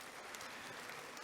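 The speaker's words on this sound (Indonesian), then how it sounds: "Tepuk tangan dulu." Applause from a crowd at a university graduation ceremony, steady dense clapping filling the hall throughout the short moment.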